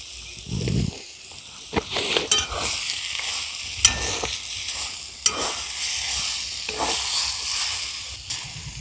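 Taro leaves (kochu shak) frying in a pan while being stirred, with a steady broadband sizzle and intermittent scraping strokes from the spatula throughout.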